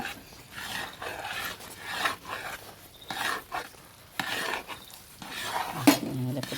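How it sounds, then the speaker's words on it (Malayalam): Thick jackfruit varatti, a sweet jam, is stirred hard in a pan. A spoon scrapes and thuds against the metal in repeated, uneven strokes, fairly close and steady throughout. "ഇനി നന്നായി ഇളക്കണം"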